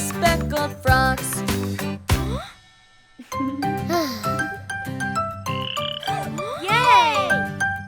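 Cartoon frog croaks woven through a children's nursery rhyme song, with bright musical tones, jingles and sung melody around them, a brief pause midway before the busy music resumes.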